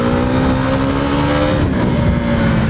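A KTM Duke 390 single-cylinder motorcycle, old BS3 version on Metzeler tires, revs hard and accelerates, its engine note climbing steadily in pitch, loud and close throughout with constant wind rush behind it.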